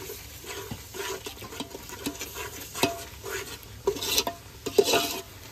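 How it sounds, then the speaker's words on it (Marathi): Ground masala paste being sautéed in oil with a spoon: continuous close stirring and scraping in a pan with a faint frying sizzle, irregular spoon knocks growing louder toward the end, no talk. "वाटण छानपैकी तेलामध्ये परतून घ्यायचं"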